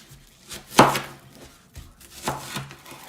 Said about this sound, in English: I like to use a small chef's knife just to cut it down the middle